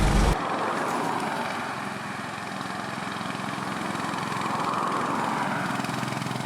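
A loud, steady engine drone fills the cabin of a Volkswagen, a continuous rough hum and roar that holds nearly unchanged for several seconds after an abrupt start, with no talk over it.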